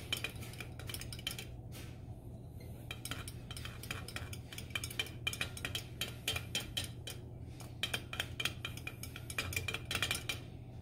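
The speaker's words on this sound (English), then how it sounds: "And stir." A spoon stirs inside a metal can set over a small fire of burning Doritos, making a rapid, busy run of metallic scrapes and clinks above a steady low hum.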